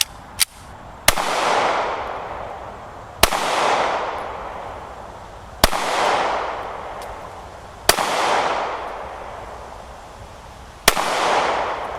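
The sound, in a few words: gunshots from a 3.6-inch handgun at a target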